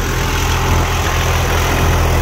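A tractor with a rotary pump, a New Holland 6510 Excel or John Deere 5405 Gear Pro 4WD, runs steadily under no extra load, a loud, even, low engine drone close by with no speech.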